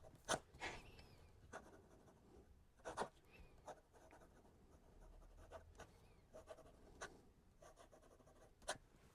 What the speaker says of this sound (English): I'm going to write kind of recklessly